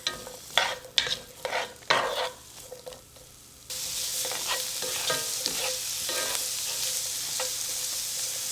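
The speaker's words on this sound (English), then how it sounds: "we're going to add our carrots to the pan and our diced yellow onion" Carrots and diced yellow onion tumble into a pan with a few clattering drops and scrapes, then settle into a steady sizzle of cooking vegetables with occasional stirring, no talk.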